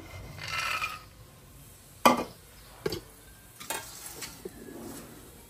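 Peanuts fry in hot oil in a kadai, giving a faint, soft sizzle broken by a few sharp clicks and taps from the pan, with no one speaking.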